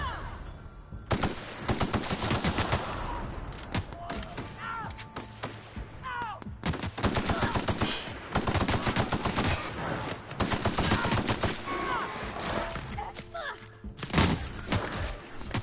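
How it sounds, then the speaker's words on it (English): Rapid, loud gunfire from a tactical shotgun in the video game The Outer Worlds, blasts fired in quick bursts with heavy booming reports, nearly continuous with brief pauses. "Oh yeah, this tactical shotgun's good."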